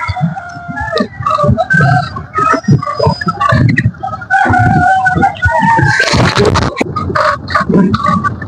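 Chickens on a farm in Chí Linh, Hải Dương, cluck and squawk loudly up close in dense overlapping bursts, with one rooster crowing sharply partway through.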